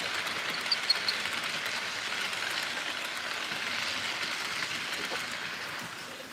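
An HO scale model CSX locomotive runs along the layout, giving off a faint, steady whirring hiss that continues evenly throughout with no pauses.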